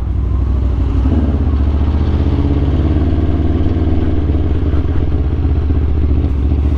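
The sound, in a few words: Aprilia RSV4 motorcycle riding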